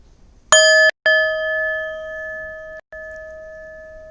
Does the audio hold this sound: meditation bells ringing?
yes